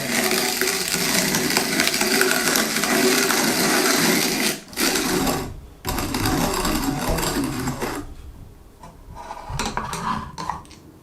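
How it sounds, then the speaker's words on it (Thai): A ROK manual coffee grinder grinds beans with a steady, loud rasping churn for about eight seconds, then stops and leaves a few scattered clicks and knocks. "คลิปนี้ชงด้วยเครื่องล็อกก็บดด้วยเครื่องล็อกไปเลย"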